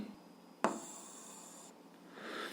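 A pen writes numbers on paper while an algebra fraction problem is worked out, heard as a faint scratch with a small tap, then a soft rustle of strokes in a quiet room.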